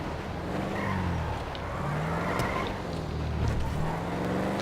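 An Audi RS6 engine in the video game GTA 5 drones steadily, rising and falling in pitch as it accelerates, with no talking.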